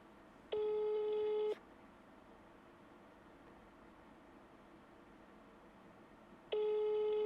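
A telephone call tone sounds as one long steady beep, then quiet line hiss for several seconds, then the same tone starts again.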